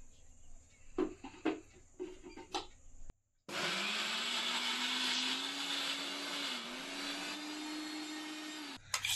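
Electric blender grinding amla (Indian gooseberry) into a paste, a loud steady motor whir that starts abruptly after a few soft clicks and runs for several seconds before cutting off.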